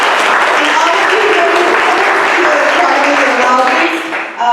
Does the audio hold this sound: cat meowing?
no